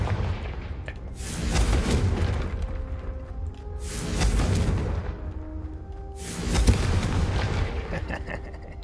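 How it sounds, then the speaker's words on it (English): Repeated Confringo spell blasts in the Hogwarts Legacy video game, three loud booming explosions spaced a couple of seconds apart, each with a broad crackling burst that swells and decays over a steady rumbling game background. "Confringo! It just explodes everywhere."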